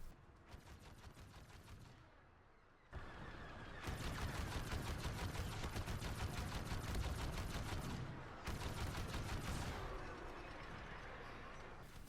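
Anti-aircraft cannons hammer out rapid automatic fire on Crait in Star Wars Battlefront 2, loud sustained bursts broken by two short pauses, alone without talk.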